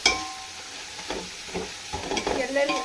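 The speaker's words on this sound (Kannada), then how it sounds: "ಎಲ್ಲನೂ ಒಂದೊಂದು ಹಾಕಿ ಚೆನ್ನಾಗಿ ಫ್ರೈ ಆಗಬೇಕು." Chicken dum biryani masala with coriander leaves and mint fries in a pan, giving a steady sizzle broken by scraping stirs of a spoon against the pan, close and moderately loud with no talking.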